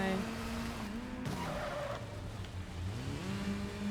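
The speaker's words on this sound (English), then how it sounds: "I don't like that bike does not handle like the Batmobile." A motorbike in the video game Gotham Knights drives and skids, with a steady engine drone and tire squeal rising and falling throughout.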